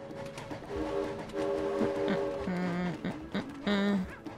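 A train in the co-op video game It Takes Two sounds its horn in several loud tonal blasts of shifting pitch over rumbling, clattering game noise.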